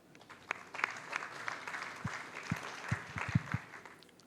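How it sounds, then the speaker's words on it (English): Audience applauding as a speaker takes the stage at a national development plan session, a room full of clapping rising from scattered claps into a dense, steady patter with a few louder nearby claps. "A warm round of applause for Mr. Ruchira Vithana as he joins us on the stage."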